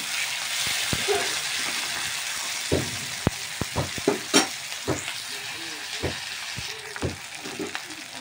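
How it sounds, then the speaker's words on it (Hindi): Two onions fry in a pan with a steady close sizzle, while a utensil scrapes and knocks against the pan in irregular strokes as they are stirred; no one speaks. "जब तक ना पके तब तक इसको पूरा भूनना पड़ेगा"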